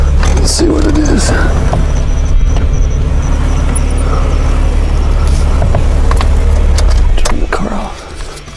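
A car engine idles steadily as a low, continuous rumble through most of the clip while people talk over it, the engine noise dropping away near the end.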